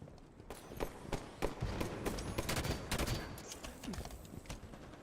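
Rapid gunfire exchanges in a Halo 5 multiplayer match with sniper rifles on the field, dense overlapping shots cracking throughout at a steady loud level with no voices.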